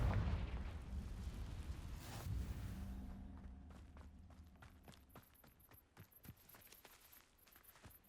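A Confringo spell explosion in Hogwarts Legacy hits loudly with a rumbling burst at first, then fades into a string of sharp crackles and pops that scatter over the next several seconds.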